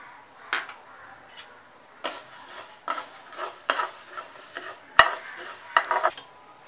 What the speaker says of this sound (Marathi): त्याच्यानंतर आपण भाजणार आहोत ज्वारी।